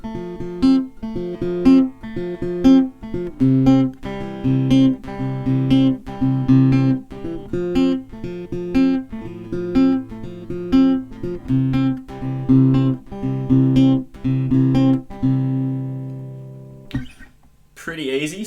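Acoustic guitar playing the intro to a song, two chords strummed in a steady rhythmic pattern with bright plucked accents, close and clear, ending in a brief noisy rustle.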